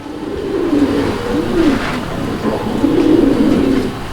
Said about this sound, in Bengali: দেখেন কবুতর